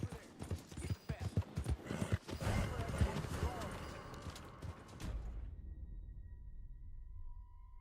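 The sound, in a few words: horse hooves, from video game Red Dead Redemption 2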